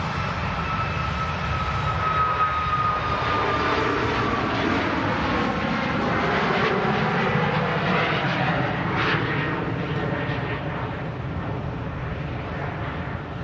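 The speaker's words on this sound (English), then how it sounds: "See Ryanair just on the takeoff roll as well." A Ryanair jet airliner rolls down the runway for takeoff at Manchester Airport, a broad sustained engine roar with a thin whine on top, distant but steady throughout.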